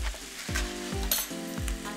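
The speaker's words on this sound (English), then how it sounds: "I'm just gonna saute this until the Swiss chard wilts" Swiss chard with chickpeas sizzles steadily in a hot pan, a close, continuous frying hiss broken by the scrape and clatter of stirring every half second or so.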